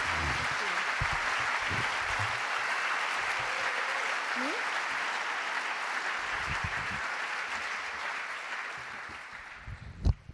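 Warm audience applause for a guest at a Winterkino film talk in Langenthal, a steady wash of clapping that carries throughout and tapers toward the end, with a little background voice.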